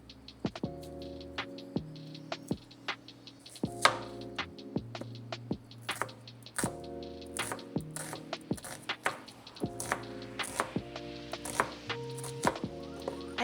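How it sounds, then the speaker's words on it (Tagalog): A knife slices onion on a board in a home kitchen, sharp, close cuts coming in irregular bursts under steady background music. "Ayan, mag-iwa muna tayo nitong ating onion and garlics."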